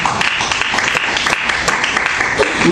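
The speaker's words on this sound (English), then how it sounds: "clap your hands and give God some praise" A Church of God in Christ congregation claps during a worship service, making a continuous, energetic wash of hand-clapping that stays fairly loud and even throughout.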